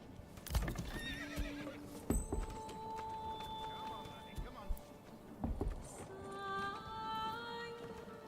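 Horses whinny several times in the medieval strategy game Manor Lords, with clip-clopping hooves and a busy ambient village backdrop, the neighs rising clearly over the steady background.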